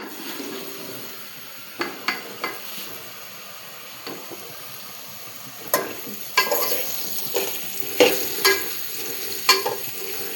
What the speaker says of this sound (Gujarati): હવે નાખું છું હિંગ મિત્રો.